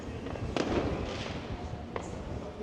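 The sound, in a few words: fireworks going off on New Year's Eve in Blackpool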